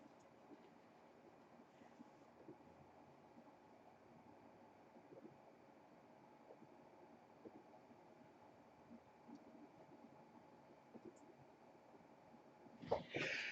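A single sudden sneeze bursts out loud and close near the end, following a long stretch of faint room noise.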